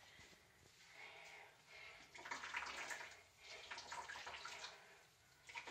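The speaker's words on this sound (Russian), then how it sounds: "А это вот жидкость, которая вот тут с крахмалом выливаю вон." Starchy liquid squeezed from grated potatoes for draniki is poured out into a sink, a steady splashing stream that swells in the middle and carries on, close by with no talking.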